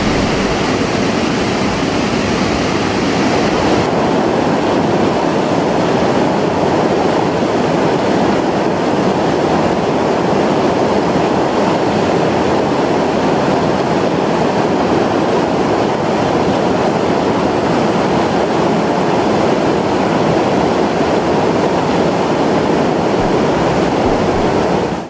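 Curug Bangkong waterfall in Kuningan roars in a steady, dense rush of falling water that stays loud and unbroken throughout, with no voices.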